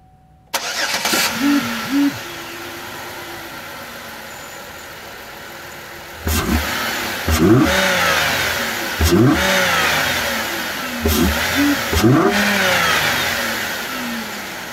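A 2009 Pontiac G6 fitted with an aftermarket intake cranks and starts, settles into a steady idle, then revs up several times in quick blips, loud and close.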